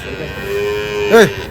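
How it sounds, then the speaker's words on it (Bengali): A tethered buffalo at a rural cattle market gives one short, deep low near the end over a low background hum and faint murmur. "বেশ কিছু মহিষ দেখছি এখানে বাঁধা রয়েছে"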